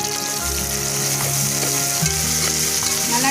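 Onions sauté in a hot pan for a rice pulao, giving a steady, close sizzle with faint stirring scrapes throughout.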